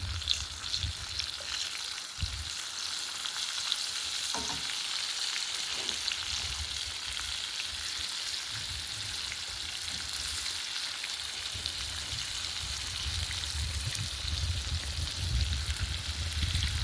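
Zucchini and summer squash fry in foamy, browning butter with a steady, dense sizzle that holds evenly throughout, with occasional louder crackles and stirring.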